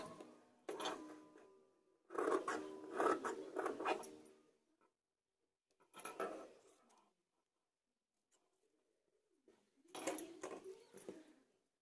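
Scissors cut through blouse fabric in short bursts of crisp snipping and rustling, set apart by silent pauses, close to the ear.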